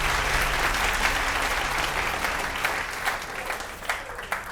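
Studio audience at a fashion competition show gives steady, dense applause that fills the whole stretch, loud and continuous with a few sharper claps near the end and no talking.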